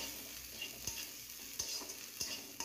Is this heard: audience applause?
no